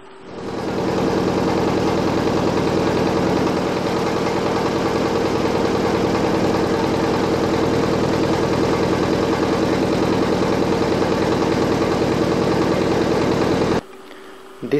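A steady boat engine drone on a river runs continuously for several seconds, a constant low hum with no talking, then abruptly cuts out near the end.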